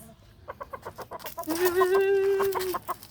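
A Bulik rooster, its foot cast just removed, gives a run of quick, close clucks, then a longer drawn-out call before the clucking resumes.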